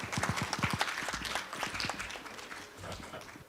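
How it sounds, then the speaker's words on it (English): Applause from an audience at a career conclave, scattered claps quickly building into a steady patter and then thinning out, moderately faint. "A huge round of applause for the address"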